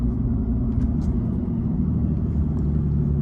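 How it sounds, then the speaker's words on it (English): Steady low rumble of a 2022 Ram 2500 truck fitted with Sumo Springs rolling smoothly down a road, heard as continuous, even road and engine drone from inside the cab, with no voices. "So this truck is driving very smooth."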